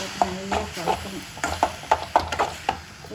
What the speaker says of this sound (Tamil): இப்போ தக்காளி நல்லா நைஸாக வெட்டி வச்சுருக்கிற தக்காளி போட்டு நல்லா கலக்கணும்.